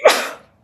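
A single sharp sneeze bursts out close by, fading quickly into silence.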